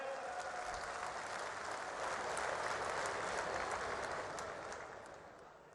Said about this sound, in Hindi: दोस्तों, जोरदार तालियां हो जाए।